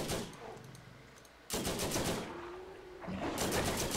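Deployed turret in the Borderlands shooter on PC firing rapid automatic bursts, loud and continuous, pausing briefly before resuming with dense rattling gunfire.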